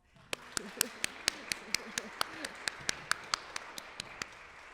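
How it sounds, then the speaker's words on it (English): Sparse, evenly spaced claps from a small audience at an academic lecture, each one sharp and distinct, fairly faint and with no voices over them. "So please, I'm inviting you to give her an applause."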